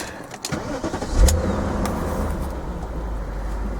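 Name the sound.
BMW M5 engine starting up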